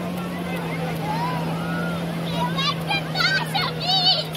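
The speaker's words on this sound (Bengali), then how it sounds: "সেই যে দূরে স্পিড বোট, ওই যে যাচ্ছে।" Speedboat passing offshore at a sea beach, a faint distant engine drone under wind and breeze noise while people talk nearby.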